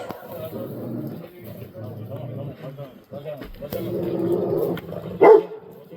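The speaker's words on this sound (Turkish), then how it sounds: "Bakın arkadaşlar sarı köpek gelmiş." A yellow dog barks a few times amid ongoing talk, with one louder, closer bark standing out near the end.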